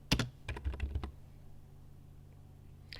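A handful of quick keystrokes on a computer keyboard, a short clustered burst of clicks up close, followed by near silence and one last faint tap.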